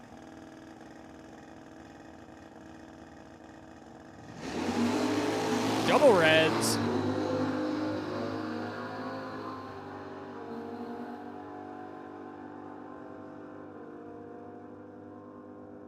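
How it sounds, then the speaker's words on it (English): At a drag strip, an old Dodge car and a motorcycle launch side by side, a sudden loud engine roar swelling near the start then fading into a long receding drone, with announcer talk over it. "Got a good old motorcycle going against the old Dodge in the right lane."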